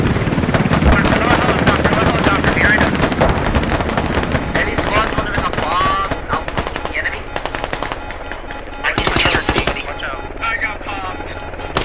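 A helicopter in the video game Squad drones steadily alongside bursts of rapid machine-gun fire and shots, with voices talking over the busy battle noise.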